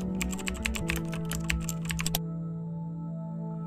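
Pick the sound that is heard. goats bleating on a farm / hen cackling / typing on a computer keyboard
typing on a computer keyboard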